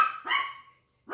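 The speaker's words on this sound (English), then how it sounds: "why are you barking?" A pet dog indoors gives two sharp, close barks, with a brief pause between them and no talking.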